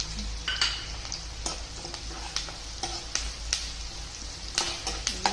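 Curry leaves fry in a pan for a potato masala gravy, a constant low sizzle broken by repeated scraping strokes of a spoon stirring at a loose, uneven rhythm.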